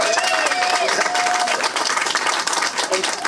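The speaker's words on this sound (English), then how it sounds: "So Jerlyne Calixte, let's have a round of applause for them." Ceremony audience at an LGBTQ+ Heroes award event claps in a dense, continuous burst, with scattered voices and faint cheers mixed into the crowd noise throughout.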